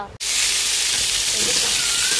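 Vegetables fry in a pan for a home curry, a loud, steady broadband sizzle that starts abruptly after a brief gap and holds close and even throughout.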